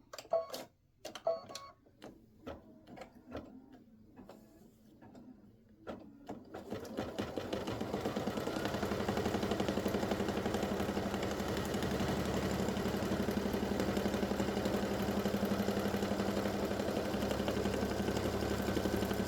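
An embroidery machine sews the final in-the-hoop stitch joining a Halloween pumpkin-face banner: scattered light taps at first, then a steady, loud whirring hum with rapid mechanical ticking that runs unbroken to the end, with no voices.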